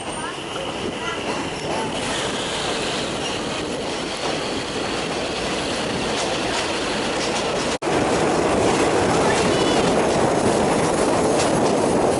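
A train rolls past Ban Yang station in morning fog on the Khiri Rat Nikhom line, a loud, continuous rumble of wheels and carriages close by, with a brief sharp break partway through.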